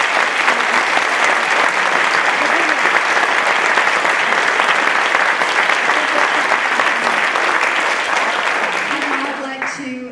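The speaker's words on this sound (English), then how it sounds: "Everybody, a big round of applause." A university audience applauds loudly and continuously for about ten seconds after a talk by the Irish Taoiseach, the clapping fading slightly near the end as a voice begins to speak.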